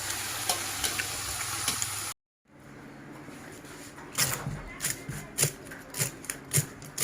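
Golden apple snails fry in hot oil with a steady sizzle that cuts out briefly, then resumes more quietly with sharp clicks and knocks from stirring at an uneven rhythm.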